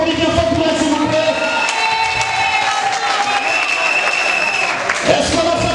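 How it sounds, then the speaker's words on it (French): A crowd claps and cheers steadily throughout, a dense wash of applause with a few voices calling out over it. "On applaudit bien fort pour elle, s'il vous plaît."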